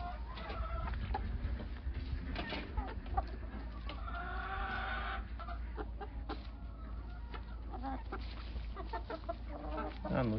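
Chickens cluck repeatedly in short, scattered calls close by while being fed pieces of pumpkin, with a steady low background hum throughout.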